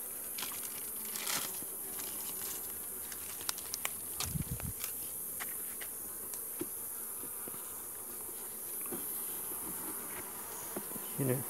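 Honeybees buzz steadily around a weak hive being tended during beekeeping, a constant close insect drone with scattered sharper clicks and crinkling handling noises over the top.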